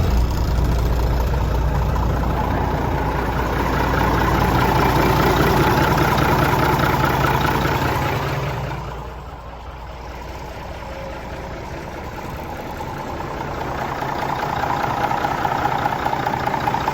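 A Mack R-series diesel truck engine idles steadily after injector pump work, a continuous low rumble that stays even throughout, dipping briefly midway before building back up, with no voices.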